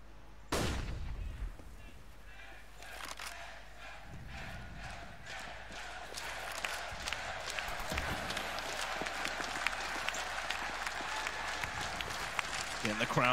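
An esports arena crowd applauds and cheers during a Counter-Strike match heading into overtime, sustained rattling clapping that builds and stays loud for several seconds, with commentators talking over it.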